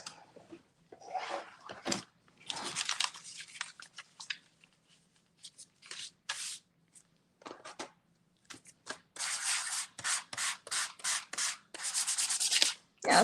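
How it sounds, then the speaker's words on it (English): Hand sanding dried paint off a stencil for mixed media collage, close scratchy rubbing strokes in irregular bursts, some long and some short quick passes, with no one speaking. "In theory, we should be able to sand off that paint."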